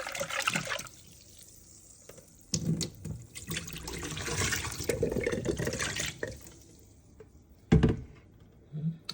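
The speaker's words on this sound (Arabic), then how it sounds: "انا دوكا نروح غير نرمي الماء ونغسلو" Water is poured over something being washed in a kitchen, giving splashing gushes in several uneven bursts with a sharp splash toward the end, close by.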